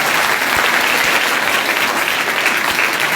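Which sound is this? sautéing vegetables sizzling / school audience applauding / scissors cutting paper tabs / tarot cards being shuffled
school audience applauding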